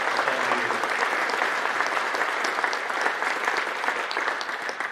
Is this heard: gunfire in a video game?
no